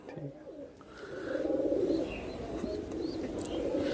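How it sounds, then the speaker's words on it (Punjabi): Pigeons coo softly in low, throaty bursts, with a few faint chirps and some distant background noise. "ਬਹੁਤ ਚੰਗੇ ਕਬੂਤਰ ਆ"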